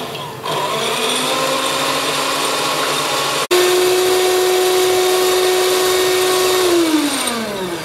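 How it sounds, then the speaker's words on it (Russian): An electric mixer whisks an egg into foam for a cranberry bun batter. Its steady motor whine steps up to a higher, stronger pitch partway through, then winds down at the end. "Яйцо взбила в пену"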